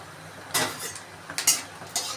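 Bay leaf and dried chilli dropped into hot oil in a pan: a few sharp sizzling bursts and soft scraping stirs, each flaring briefly then fading, fairly close with no voices.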